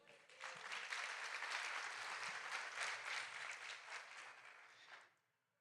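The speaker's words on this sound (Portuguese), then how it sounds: "Eu posso ouvir uma salva de palmas?" Church congregation applauding at a worship service, a faint, even round of clapping building quickly, holding steady, then fading out at the end.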